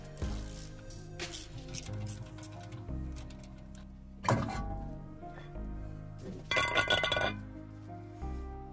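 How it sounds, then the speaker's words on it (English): Metallic clinks and clunks of a Torx bit on socket extensions and a universal joint working loose the brake caliper carrier bolts on a Mini Cooper S, with sharp taps and rattles spread irregularly through the work, close by with no talk. "use a Torx bit to remove the caliper carrier so we can get the disc off"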